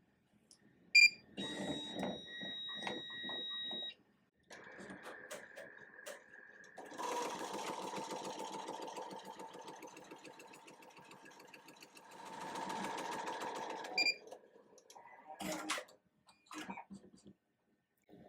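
A computerized embroidery machine sews a satin-stitch border on a shirt, its needle chattering in steady rapid runs with brief pauses between sections; the mechanical whirr is fairly close and clear, with no talking over it.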